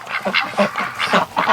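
Several Muscovy ducks give soft, breathy quacks and hisses in quick irregular bursts, close by, with no talking, inside a barn in -33°C cold.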